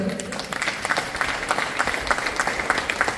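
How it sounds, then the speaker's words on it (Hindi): Audience applause at an office opening ceremony for Janta Jagriti Vikas Kendra in Ramgarh, steady crowd clapping running throughout at moderate level. "जोरदार ताली"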